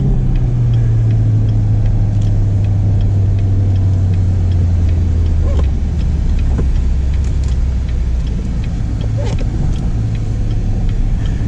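A loud Corvette C7 manual engine rumbles low and steady while driving, with a deep droning exhaust note and occasional shifts in pitch.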